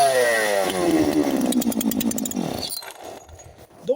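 A chainsaw engine sputters and revs loudly as it starts up in a workshop, its pitch climbing and then settling into a rough idle. The sound is close and alone, ending with a short thump.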